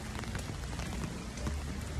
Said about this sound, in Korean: 오늘은 또 비가 오고